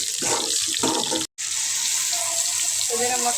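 Water running and splashing into a cooking pot for a hilsa fish curry, a steady close gush with a brief cut partway, then more pouring with some rising tonal filling sounds.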